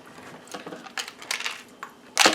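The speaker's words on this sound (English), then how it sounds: "That noise you hear is some ball bearings in that titanium." Ball bearings rattle inside a titanium dioxide container while cold process soap is being made: a few scattered light clinks and shakes, ending in a louder burst of metallic rattling.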